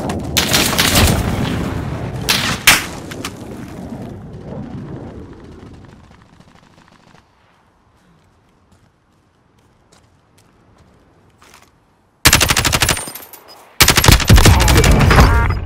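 Airstrike explosions and gunfire in Call of Duty: Modern Warfare: loud bursts of rapid shots and booms at the start, fading to near silence, then heavy blasts and fire returning close and loud at the end.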